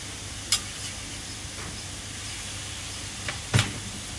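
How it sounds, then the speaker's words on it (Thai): Minced pork drops into a simmering pot of Thai red curry without coconut milk: a few sharp splashes and clinks over a soft, steady bubbling hiss. "น้ำเดือดเอาหมูสับลงไป"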